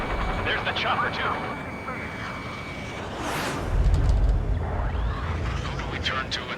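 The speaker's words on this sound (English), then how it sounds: "There's the chopper, too." Helicopter in the Ace Combat 7 flight game, a rising roar of rotor and engine noise that swells midway and sits among loud in-game jet and combat sounds, with a voice speaking over it.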